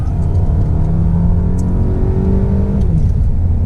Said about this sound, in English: Now if I put it into sports mode, move it down, and put my foot down,